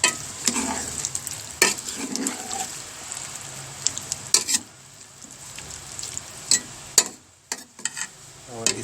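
A spoon stirs bottle gourd curry cooking in a pot, with repeated sharp scraping clinks against the metal over a soft ongoing sizzle, close up and irregular in rhythm.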